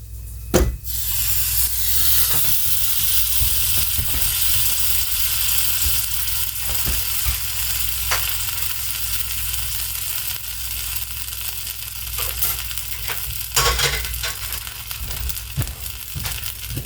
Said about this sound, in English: I'm going to go ahead and put my tomatoes on there before I put my egg on there.